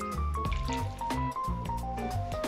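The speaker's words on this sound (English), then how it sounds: "Next we'll add about 1/2 cup of water." About half a cup of water is poured into a cooking pot holding layers of meat and tomatoes for a Bosnian stew. The pour makes a short, close gurgling trickle.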